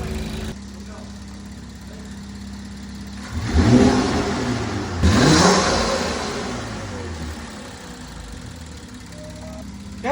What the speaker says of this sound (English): Let's get a rev.